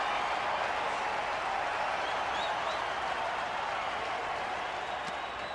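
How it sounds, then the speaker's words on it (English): A baseball crowd at a Padres–Diamondbacks game roars steadily and evenly throughout, a dense wash of cheering and applause from a distance with no breaks. "Boy, crowd getting into this."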